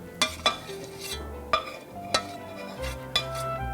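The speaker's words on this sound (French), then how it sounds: "on va incorporer l'ananas avec le jus d'ananas. Enfin, on va tout mélanger." Bread pudding mixture being stirred with pineapple and pineapple juice, a spoon clinking against the bowl in several sharp taps amid soft wet scraping, close and without talk.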